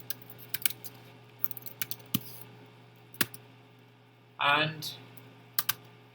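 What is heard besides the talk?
typing on a computer keyboard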